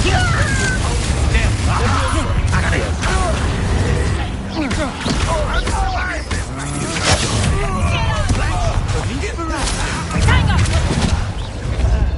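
The Confringo fire spell cast in Hogwarts Legacy, dense bursts and crashing blasts amid continuous combat noise, with voices speaking over the fighting throughout.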